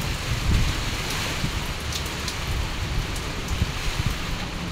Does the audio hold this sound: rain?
yes